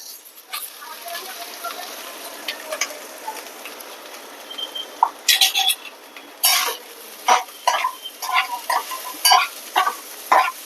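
Coconut fries in ghee for modak filling, a soft sizzle under a run of quick scraping and clinking stirs against the pan that grow more frequent near the end, with someone speaking now and then.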